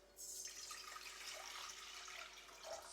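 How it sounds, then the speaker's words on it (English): Water pours from a container into a pot on a hot plate, a soft, steady splashing stream that lasts a few seconds, faint and close by. "Let's add the water in first."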